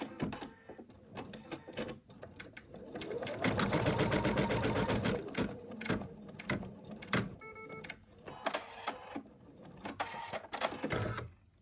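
An embroidery sewing machine stitches the arm placement line for a monkey toy, a steady mechanical whir of rapid needle strokes, loudest in the middle, with brief pauses and clicks between stitch runs.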